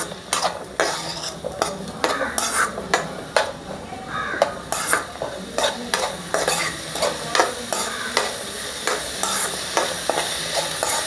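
Fried rice with capsicum being stir-fried in a pan: a steady run of scraping, clattering spatula strokes over a soft sizzle, close and fairly loud, with no talking.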